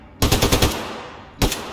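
Upgraded gun firing in Wolfenstein II: a rapid burst of four or five loud, punchy shots, a short pause, then one more sharp shot.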